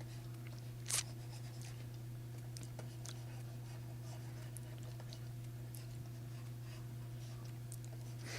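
Faint pencil strokes scratch across paper as someone sketches a cow, with a single sharper tap near the start, all over a steady low electrical hum and no speech.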